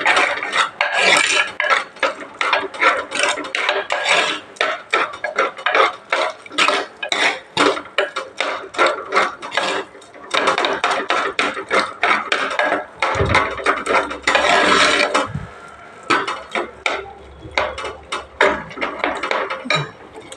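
Cooked mango being mashed in a clay pot, a rapid series of hard knocking and scraping strokes against the pot, close and loud, with brief pauses.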